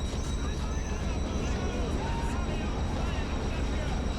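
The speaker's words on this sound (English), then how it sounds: "Lots of airplanes in this area apparently." A propeller airplane drones overhead in the World War II submarine game Silent Hunter III, a steady broad rumble with wind-like hiss that holds at an even loudness from start to end.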